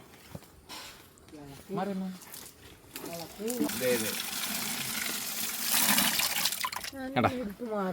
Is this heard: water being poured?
yes